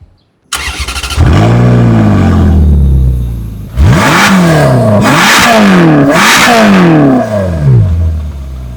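A Ferrari engine cranks and fires into a loud idle, then blips through three sharp rising revs that fall back each time, close and alone without talk.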